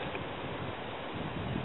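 Steady wind buffets the microphone on a cold day while fishing on the Georges River, a continuous low rumbling roar with no other clear sounds.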